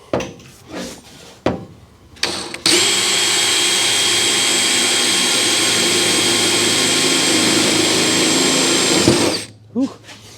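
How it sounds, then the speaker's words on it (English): A power drill whines steadily for several seconds while boring into metal in the engine bay of a 1957 Chevy hardtop, close and loud, with short knocks and handling noises before and after. "left-handed drilling's not for me"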